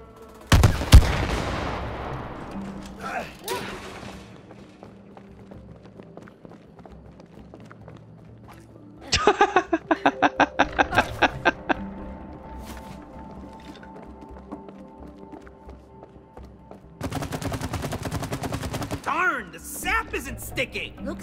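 Bursts of rapid gunfire in the game It Takes Two come in separate clusters, a sharp opening volley, a rattling stretch in the middle and another dense burst near the end, with quieter gaps between.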